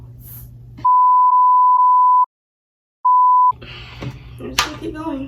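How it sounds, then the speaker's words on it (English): Loud electronic beeps from a phone warning of full storage: a long steady tone broken into three pulses, a pause, then one shorter beep, over quiet room noise that continues after with faint movement sounds. "It's my phone trying to say full storage"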